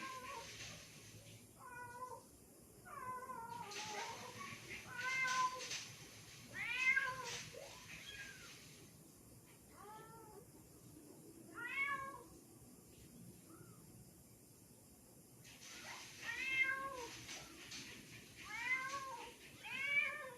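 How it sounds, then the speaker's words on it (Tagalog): A mother cat carrying her kitten meows repeatedly in short bursts of several cries, fairly faint and a little distant, with quiet pauses between. "Ang galing ng inang pusa."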